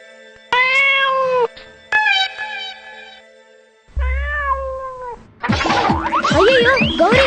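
A cat meows loudly several times up close in a series of drawn-out, rising cries, ending in a rapid run of overlapping yowls.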